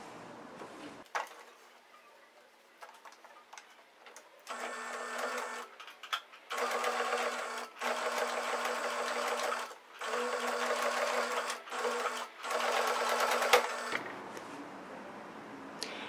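A sewing machine runs a seam along a handmade fabric pencil case in several close bursts of rapid needle clatter separated by short pauses, with quiet handling noises between runs.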